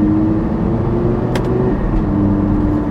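Lamborghini Gallardo LP560-4 with single-clutch E-gear transmission, engine droning loud and steady with a slight break in the pull at the upshift.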